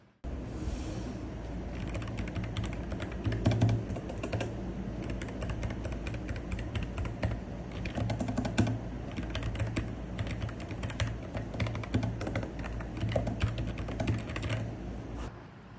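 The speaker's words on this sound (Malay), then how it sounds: "sekarang ni aku nak test untuk type guna keyboard ni" Steady, continuous typing on a Keychron mechanical keyboard, dense rapid key clicks throughout, close up with no talking.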